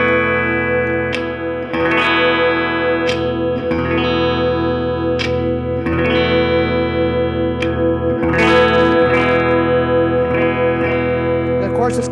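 A 1977 Electra X740 electric guitar played through its MPC phase module, loud sustained chords with repeated strums roughly every one to two seconds and a swirling phased, chorus-like tone, with no talk over it.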